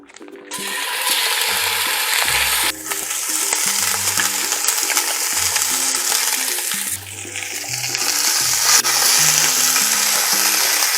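Italian sausage and 80/20 ground beef brown in a hot pan for Bolognese sauce, giving a steady, loud sizzle. Occasional scraping and stirring clatter sit under the constant frying hiss.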